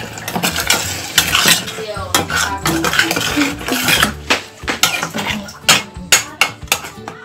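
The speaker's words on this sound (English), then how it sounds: "I just add the seasoning, aromas. So I'm just going to mix." A utensil scrapes and clinks against a pan while seasoning is mixed into eggs, loud close irregular taps and stirring scrapes with a faint sizzle beneath.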